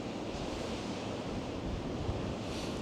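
Ocean waves at Godrevy Lighthouse in Cornwall wash in a steady, broadband roar with wind buffeting the microphone, a continuous surf wash without distinct breaking crashes.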